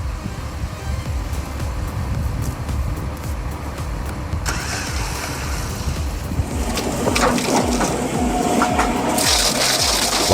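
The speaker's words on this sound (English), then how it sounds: "the Comtech Crambo tears through stumps with unrelenting hunger" Comtech Crambo stump grinder tearing through tree stumps, dense crunching and grinding with rough bursts that grow harsher and louder in the second half.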